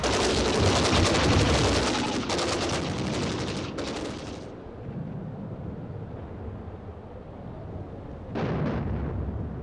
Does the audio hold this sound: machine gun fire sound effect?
yes